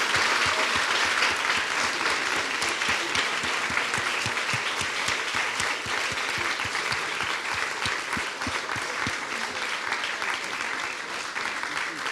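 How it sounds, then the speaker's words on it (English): An audience at a book event applauds the writers, a sustained, even wash of many hands clapping that tapers slightly toward the end. "Can we please give a wonderful round of applause to..."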